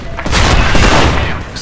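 Shotgun fire in the Special Force 2 video game, a Benelli M4, with a loud dense burst of blasts and thumps crowding together over background game noise and voice, no clean single shot.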